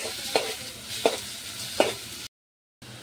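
Onions frying in a pan with a steady close sizzle, broken by three sharp stirring scrapes at even intervals, then a brief dropout before the sizzle returns.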